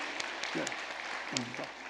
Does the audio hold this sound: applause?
yes